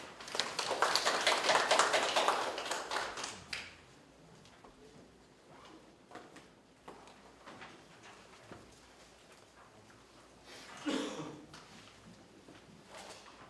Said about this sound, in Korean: 큰 박수로 보내 주십시오.